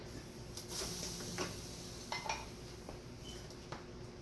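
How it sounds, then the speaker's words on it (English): A spoon stirs keto Swedish meatball sauce in a pan, giving light metallic scrapes and clinks against the pan in an irregular rhythm, close and fairly quiet. "I'm gonna just stir it, keep on stirring it"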